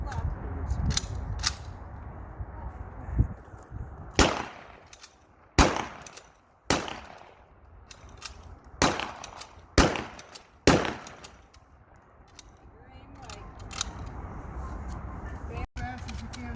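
Rifle shots ring out at an outdoor historical reenactment shooting event, about eight loud, sharp cracks in an uneven sequence with quieter gaps between them. Faint background murmur fills the pauses.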